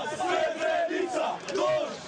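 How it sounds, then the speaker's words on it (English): Brawling Serbian and Bosnian fans shout together at the Australian Open tennis tournament in Melbourne, a loud, close crowd of raised voices swelling in three surges over a couple of seconds. "a night of brawl has erupted among Serbian and Bosnian fans at the Australian Tennis Open"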